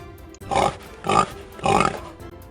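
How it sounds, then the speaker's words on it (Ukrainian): Three deep, raspy pig grunts from a sow and piglet in a farmyard come in a loose rhythm, close and fairly loud, with quiet pauses between them. "поросятко весело хрюкає і тупає за мамою"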